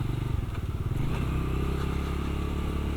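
A motorcycle engine fires up on a single press of the starter with a new battery, settling into a steady, close idle with a rough, low, throbbing rumble and some mechanical clatter.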